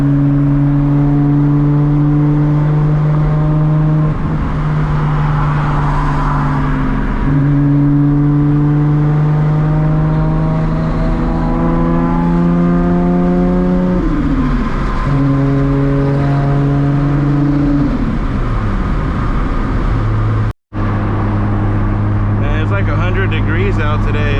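A modified Mk4 Toyota Supra of over 1000 horsepower revs up through rising and falling tones as it accelerates and shifts gears, loud and close from inside the cabin.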